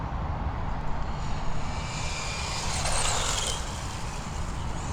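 A Tamiya TT02 Toyota Celica GT-Four RC car drives outdoors, its electric motor a steady broadband whir under a constant wash of wind or ambient noise that swells slightly near the middle.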